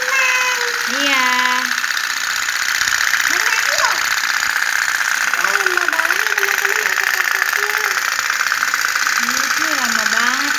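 A small otok-otok pop-pop toy boat putters steadily with a fast, continuous rattling engine sound. Children talk and make playful sounds over it throughout.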